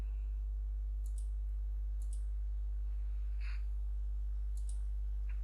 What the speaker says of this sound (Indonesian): Coba kita klik ini.